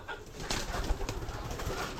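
Fancy pigeons at a pigeon farm give soft, low cooing against a steady background hum, close and moderately quiet with no talking.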